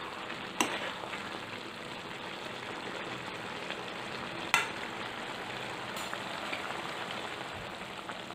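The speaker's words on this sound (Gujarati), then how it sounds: "હવે પ્લેટને પાછી હટાવી લઈશું અને આવી રીતે મિક્સ કરી લઈશું" Kathiyawadi onion and potato curry being stirred in a pan, a steady soft sizzle with scraping and a couple of sharp clinks from the spoon, alone and fairly quiet throughout.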